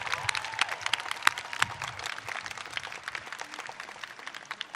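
Audience applause at Wes Moore's inauguration as Maryland governor, following the national anthem: a dense, steady crackle of many hands clapping, moderately loud and filling the whole stretch without pause.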